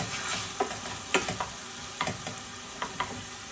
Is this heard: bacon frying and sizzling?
yes